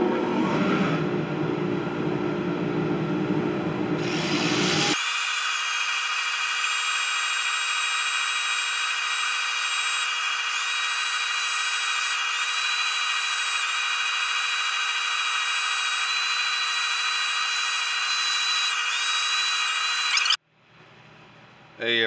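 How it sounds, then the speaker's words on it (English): A power sander works a black walnut live-edge hollow form, a loud steady whine holding for about fifteen seconds after a stretch of mixed workshop noise, then cutting off abruptly. "So let's go ahead and get some sanding done,"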